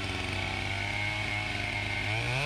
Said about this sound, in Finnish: työntävällä ketjulla tuo sahaus